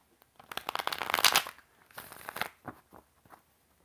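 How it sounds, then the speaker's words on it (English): A deck of tarot cards is shuffled close up in two quick riffling bursts of crisp, fluttering card noise, followed by a few lighter taps and slides. "We'll get 3 more shuffles because I wasn't counting them."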